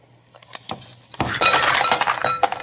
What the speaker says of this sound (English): dump the ice cubes in here